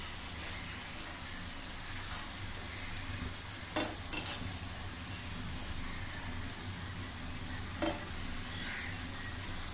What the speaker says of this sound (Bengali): যাতে ভিতরটা কাঁচা না থাকে, উল্টিয়ে উল্টিয়ে নেড়ে দিন।